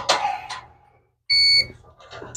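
A continuity tester gives one short, steady electronic beep while probing a Samsung dryer's high limit thermostat, clear and close, with faint handling noise around it.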